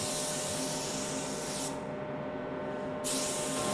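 A spray gun lays sealer onto a car hood, giving a loud, continuous close hiss that breaks off for about a second before starting again.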